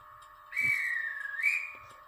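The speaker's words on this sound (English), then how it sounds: "We've got um, dispatch whistle" A Hornby Class 91 LNER DCC sound model train gives its dispatch whistle: a single clear, sustained whistle tone lasting under two seconds that dips slightly in pitch and rises again before cutting off over a faint background hum.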